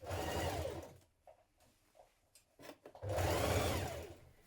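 A sewing machine stitches coat lining sleeves in two close, loud whirring runs separated by a pause filled with soft handling taps.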